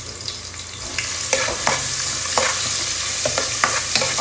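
Ginger fries in hot cooking oil, a steady bright sizzle close up, punctuated by repeated scraping taps as it is stirred in the pan, with no talk.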